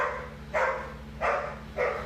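A dog barks three times at a steady pace, somewhat distant and moderately loud, with brief quiet gaps between each bark.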